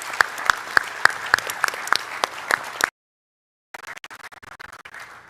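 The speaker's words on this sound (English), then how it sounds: "Let's give them a round of applause." Audience at the LANPAC 2026 land forces conference claps after a panel. The clapping is close and distinct with sharp individual claps, cuts to silence briefly, then resumes as a softer, denser round.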